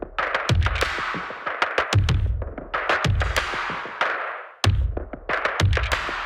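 Layered drum group from the Tenebrae percussion library, with repeated booming low hits and sharp bright transients in dense rhythmic bursts, loud and close with no voices.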